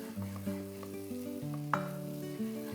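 Ground masala stirred into a sizzling onion-tomato mixture in a pan for a Maharashtrian usal, with steady frying sizzle and a few scraping spoon strokes, including one sharper clink near the end.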